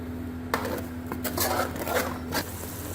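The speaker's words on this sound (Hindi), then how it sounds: "अब मैंने मसाला सारा ग्राइंड कर लिया, लहसुन प्याज और अदरक का पेस्ट। अब मैं इसको भूनने लगी।" A paste of garlic, onion and ginger being sautéed in a handi pot, with soft scraping and stirring clatters of a utensil against the pot over a faint background hum.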